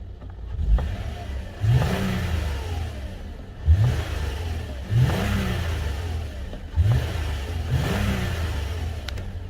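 A 2015 Toyota Aurion with 250,000 km on it revs repeatedly, each press rising into a smooth, strong engine swell and falling back, four or five regular cycles heard close and alone.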